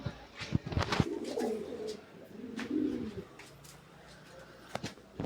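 Fancy pigeons, including Danish birds, coo in low, rolling phrases at close range. Sharp clicks and wing taps break in now and then, with quieter stretches between the calls.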